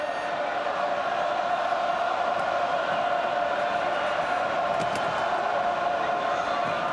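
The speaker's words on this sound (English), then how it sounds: "And isn't the crowd just humming?" Packed rugby stadium crowd at the 1996 Super Rugby final between the Blues and the Sharks, a continuous distant roar and hum held steady throughout with faint whistles and shouts.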